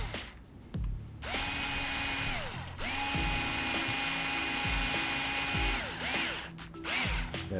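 Power drill or driver tightening down a screw holding a wheel bearing pin in plastic, a steady whining motor hum with rising and falling pitch over several seconds, close and fairly loud with brief stops.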